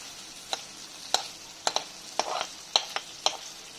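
Chicken pieces frying in their own rendered fat, a soft continuous sizzle broken by sharp scraping stir strokes roughly every half second, close and fairly quiet, with no voices.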